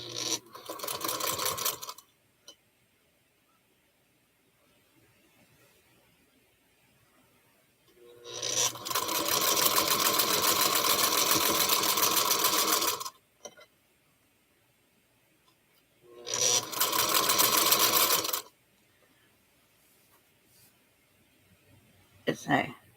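A domestic sewing machine stitches Jacob's ladder quilt blocks in three loud bursts, the longest running about four seconds, with quiet gaps between them and a brief start at the very end.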